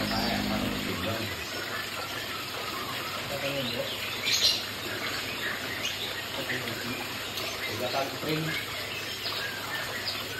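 Small birds chirping and tweeting faintly amid steady outdoor noise at a mini aviary in Cilacap, with a hiss like running water in the background.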